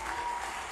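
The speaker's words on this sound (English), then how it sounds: "Give yourselves a round of applause." Brief burst of audience applause at a Turning Point USA political event, dense and steady crowd clapping filling the moment without speech.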